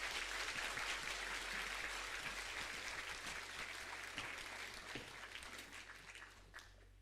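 A church congregation applauds steadily to welcome a preacher and his interpreter, dense clapping filling the room and gradually tapering off, with a low constant hum underneath.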